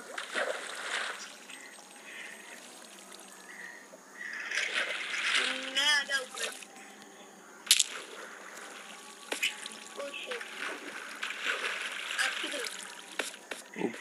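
Splashing water in a Minecraft multiplayer game as a character swims upward, soft watery swishes and drips under intermittent game effects and a player talking.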